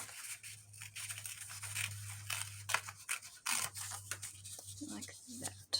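Scissors repeatedly snipping and rasping along the edges of an old book page, with close papery cuts and rustling in an uneven rhythm and some soft talking mixed in.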